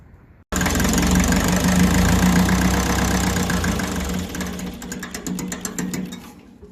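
A 1954 Ferguson 20 diesel tractor engine starts abruptly and runs loudly with a steady rough chug, revs adjusted by hand, the rhythm turning more uneven and pulsing toward the end.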